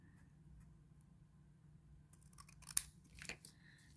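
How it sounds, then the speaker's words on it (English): Scissors cut a small piece of candy wrapper craft material for a keychain, giving a few quick close snips after a quiet stretch of low background hum, with no talking. "And then I'm going to cut this part just a little bit."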